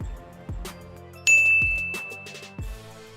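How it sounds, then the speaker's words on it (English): A bright bell rings once with a clear, sustained ding that slowly fades, set among a few short percussive hits and tonal stingers in a produced sound-effect sequence. "that bell was just a reminder"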